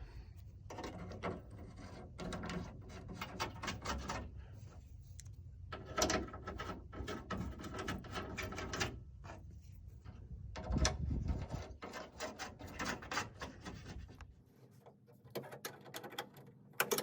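Metal bolts being fitted and tightened on a Ford Bronco tailgate, giving repeated clicks, clanks and mechanical rattles at close range with no talking.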